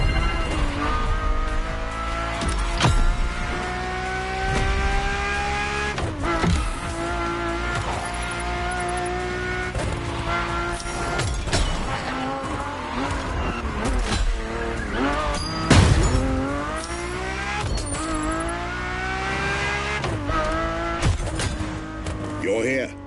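Ferrari cars, an F40 and a road-legal Formula One-style F50, race in The Crew Motorfest. Loud, continuous engine roar rises and falls through the gears, with occasional tire squeal and a voice at times.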